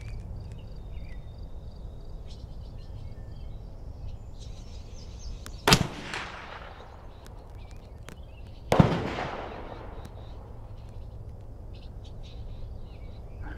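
Two sharp rifle shots from a Mossberg 640K fired at a 100-yard range ring out a few seconds apart, each a loud crack with a quick echoing decay over quiet outdoor background.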